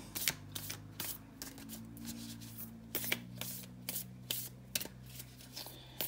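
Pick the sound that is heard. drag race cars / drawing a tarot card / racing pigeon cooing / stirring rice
drawing a tarot card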